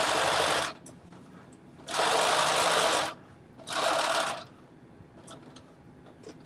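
A sewing machine stitches a tunic in three loud, close runs of rapid whirring, separated by short pauses with faint handling clicks, and a brief spoken word.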